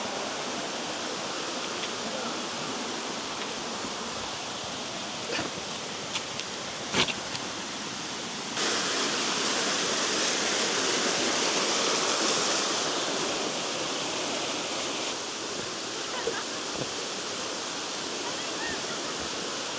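A waterfall in Chiang Mai roars as a dense, continuous wash of falling water, growing louder midway, with a few brief knocks and splashes on top.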